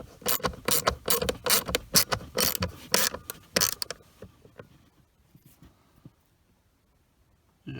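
A hand tool tightening screws threaded into plastic on a GM truck blower motor resistor, a quick series of close ratcheting clicks that stops midway, followed by faint handling noises.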